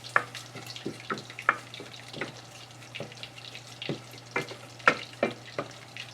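Mushrooms and garlic frying in a pan and being stirred, a soft steady sizzle broken by scattered scraping strokes and small clinks, fairly quiet with no talking.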